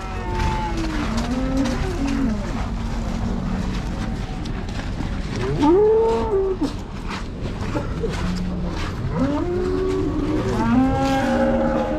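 Cattle lowing at a busy livestock market, where heifers and cows are offered for sale; several drawn-out moos rise over a steady crowd murmur, with one loud nearby call in the middle and more bellows toward the end.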